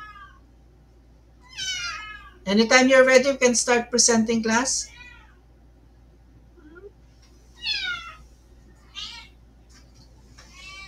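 A cat meows loudly in a drawn-out, wavering burst, then gives a few shorter calls, close to the microphone; a person speaks briefly between the calls.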